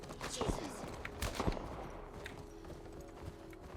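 Horse hooves clip-clop in The Last of Us Part 1 during gameplay, two bursts of galloping hoofbeats mixed with gunfire and game effects, then fading under a steady hum while a player talks.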